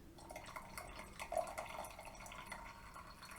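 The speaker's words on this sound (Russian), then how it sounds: "Видите, насколько тонкая струйка может быть, и вообще до капелек." A Timemore Fish Smart 800 ml kettle pours a very thin stream of water that breaks into drips, giving a soft, steady trickle and patter at close range throughout.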